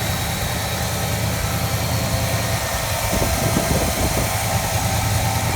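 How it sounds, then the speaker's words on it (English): A 1979 Pontiac Firebird engine idles steadily with a low, even rumble and light vibration, heard alone with no talk. "I don't know if you'll be able to hear the idle"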